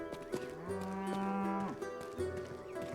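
A cow in the video game Rustler gives a long, loud moo, then a shorter second low call, over game music and background noise.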